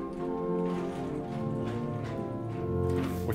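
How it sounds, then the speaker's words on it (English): Sustained chord on the Prestant 8-foot stop of the Hinsz pipe organ in the Bovenkerk, Kampen, steady and moderately soft with a few shifting notes and no voice. "So the Preston 8-foot sounds like this."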